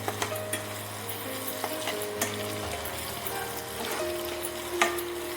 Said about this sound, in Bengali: পেঁয়াজগুলোকে লাল করে ভেজে নেব।